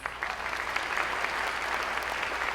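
Applause from a seated audience at a seniors' talent show in Chattanooga fills the room with a steady, dense clatter of clapping that holds level throughout, with no one speaking over it.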